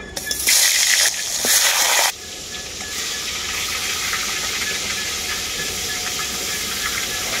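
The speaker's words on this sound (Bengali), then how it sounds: "তেলটা খুব ভালোভাবে গরম হয়ে গেছে, মাছের মাথাগুলো আমি ভেজে নেব।" Fish heads dropped into very hot mustard oil in a kadai: a loud, harsh burst of spitting hiss for a couple of seconds, settling into a strong, even sizzle heard close.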